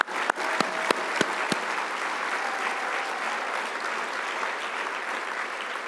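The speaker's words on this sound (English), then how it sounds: "Let's give them a round of applause." Dinner audience at an Environmental Law Institute award dinner breaks into steady, sustained applause, with a few sharp louder claps near the start, filling the room evenly throughout.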